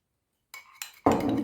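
A few light clinks and scrapes of a utensil against a bowl of dumpling dough ingredients (salt, oil), then a louder, fuller stirring sound, close by and alone.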